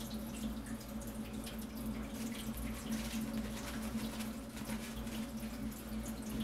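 Water runs steadily from a faucet into a sink during handwashing, a continuous close splashing hiss with no talking.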